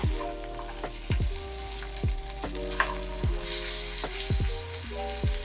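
Salmon fries in a pan with a steady close sizzle and hiss, punctuated by regular sharp pops and spits of hot fat, with no voices.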